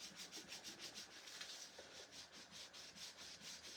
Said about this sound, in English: we do have to be extra careful when we're sanding that we don't start to pull this one back up